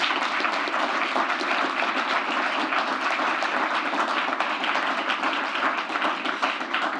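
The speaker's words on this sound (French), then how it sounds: "Bonne main d'applaudissements." Steady, dense applause from an audience after an expert panel on parking and sustainable mobility, continuous clapping at an even level throughout with no voices over it.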